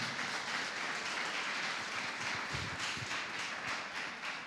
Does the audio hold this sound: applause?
yes